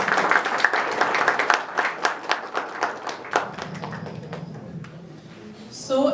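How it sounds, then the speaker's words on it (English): Scattered hand claps from a small audience at a college panel discussion, sharp separate strikes that thin out and fade over several seconds, with a brief voice or noise near the end. "Please give a big round of applause"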